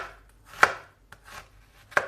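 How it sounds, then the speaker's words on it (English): A knife cuts through an onion on a board during home cooking, giving three or four separate sharp chops spaced irregularly, close and crisp with quiet gaps between them. "That's called chopping, not cutting. I don't chop the onion, I cut it."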